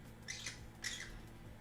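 A pet bird squawks twice in quick succession, two harsh bright calls at moderate level over a quiet indoor background during a garden painting session.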